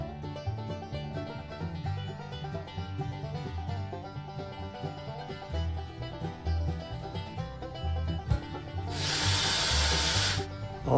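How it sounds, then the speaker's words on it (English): A power drill whirs and strains in repeated bursts while driving screws into reused cabinet door hinges, close and steady, ending with a loud hissing spray-like burst. "And then I can put them other screws in."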